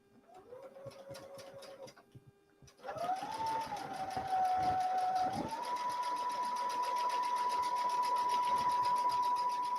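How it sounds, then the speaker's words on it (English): Sewing machine stitching quilt pieces: a close, steady motor hum starts in short bursts, then runs continuously at an even pitch for the latter half, with faint background noise. "we are going to sew this."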